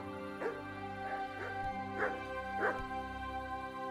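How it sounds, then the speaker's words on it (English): Dogs in Kingdom Come: Deliverance give four or five sharp barks and yips at a steady pace close by, over a droning background of game ambience. "Fuck, shut up, dog!"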